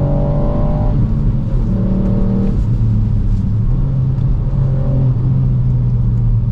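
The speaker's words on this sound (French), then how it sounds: "Sympa le petit bruit du 3 cylindres" A Ford Puma ST's three-cylinder engine pulls hard under acceleration in a steady, loud drone, its pitch rising and stepping through gear changes, with constant road and wind roar close by and no voices.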